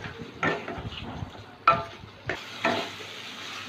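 Potato pieces being sautéed in a pan for a green banana dalna curry, a soft sizzle under a few distinct spatula scrapes and stirring knocks.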